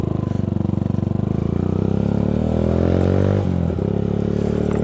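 A 2012 Yamaha YBR 125 motorcycle runs close by, its single-cylinder engine putting out a steady throbbing note that rises in pitch as it pulls away and accelerates, with a brief dip around a gear change.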